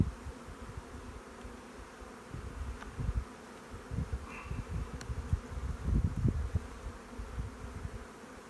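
Honeybees buzzing around an open hive during a brood frame inspection, a steady low drone that swells and fades as bees pass close, with a few brief louder bursts near the end.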